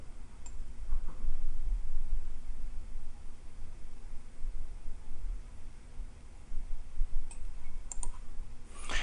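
Mouse clicks while working in Autodesk Inventor CAD software, a scattering of soft, sharp clicks over a steady low hiss, a few near the start and a tight cluster toward the end, with no voices.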